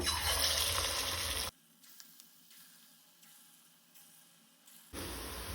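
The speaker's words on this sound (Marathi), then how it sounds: "तेल तापले तशें तातूंत आमी भजी घालून घेवया" Moong dal pakoda fritters fry in hot oil with a loud, dense sizzle that cuts to near quiet for a few seconds, then returns just as strongly.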